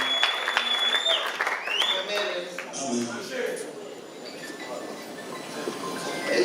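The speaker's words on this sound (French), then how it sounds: "Vous pouvez applaudir mon papa des grands." Applause from the audience at a hotel conference, scattered clapping mixed with a voice talking over it and some high squealing tones, moderately close and uneven in level.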